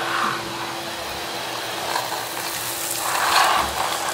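A Giraffe Tools wall-mounted garage vacuum runs with a steady, loud whooshing roar and a faint hum, its airflow surging slightly as the suction changes.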